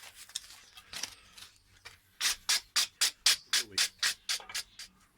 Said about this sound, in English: Let's give it a bit more sanding.